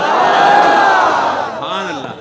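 A large crowd at a religious political rally in Peshawar roars a slogan in unison, a loud sustained chant that tapers off as a single voice rises near the end.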